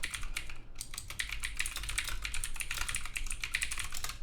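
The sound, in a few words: typing on a loud mechanical keyboard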